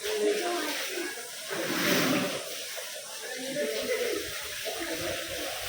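Water splashes and gurgles steadily in a hot spring bathing pool, with a busy wash of crowd chatter and voices mixed in.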